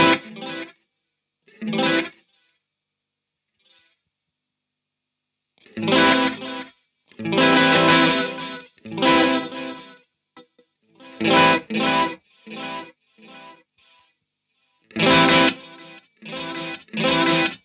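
Electric guitar through an Eventide UltraTap delay pedal, demonstrating its taper setting: bursts of processed, effected strumming with trailing repeats, separated by short silences, loud and close.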